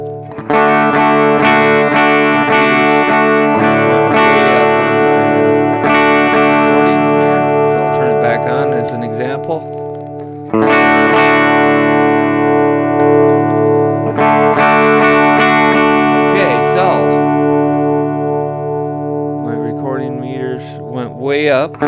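An electric guitar with a Blackloop humbucker runs through a Red Plate amp with the presence off, giving loud sustained distorted chords in two long ringing phrases with short breaks between them.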